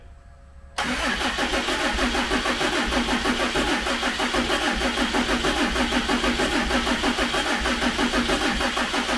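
After a quiet moment, a Plymouth 'Cuda car engine cranks and catches, then settles into a loud, steady, rhythmic running chug that continues to the end.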